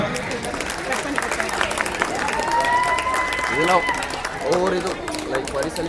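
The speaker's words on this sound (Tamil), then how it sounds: "ராணேஷ் பாலாஜி மனத்தை கைத்தட்டல் கொடுங்க" At a Tamil school annual prize-giving ceremony in Dayton, USA, an audience claps for an award recipient. Moderate clapping runs under voices talking nearby, with crowd murmur throughout.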